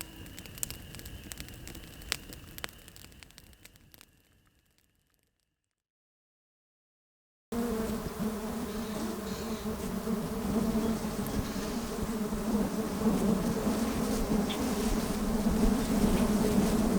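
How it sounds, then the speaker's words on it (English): A thick swarm of biting bugs buzzes around a solo fishing campsite where northern pike are the catch, a dense continuous drone that fills the air after a brief silence. "the bugs are out in full effect"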